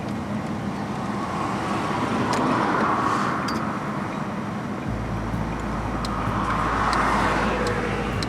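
A Toyota Hilux drives along a road and makes a turn. A steady engine and tyre rumble runs throughout, with a deeper drone coming in partway. No one speaks.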